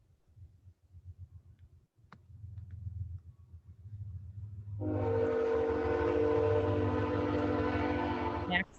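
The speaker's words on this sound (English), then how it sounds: "I think the train's going by his house" A train passes by a house. A low rumbling build-up gives way to a long, loud horn blast held for several seconds before it cuts off, heard from indoors with no clear talk.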